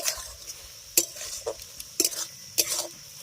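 A spoon stirring banana flower curry with a fish head in a pan, giving a few scraping, clinking strokes about once a second over a soft sizzle, close and fairly loud, no voices.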